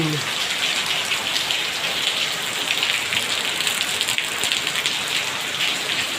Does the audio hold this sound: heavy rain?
yes